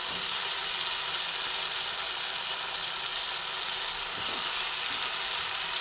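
Watermelon rind pieces going into a pan of partly boiled potatoes in a Bengali curry, with steady close frying sizzle and hiss throughout and a faint clunk near the end.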